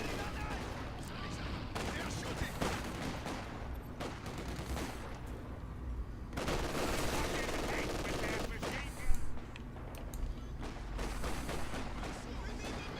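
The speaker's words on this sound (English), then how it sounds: "getting early suppression on the Vickers there" Vickers machine guns rattle in long bursts during a Company of Heroes 2 battle, joined by other gunfire and artillery thumps, with a voice talking over the steady, loud fire.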